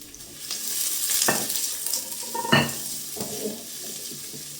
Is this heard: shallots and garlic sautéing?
yes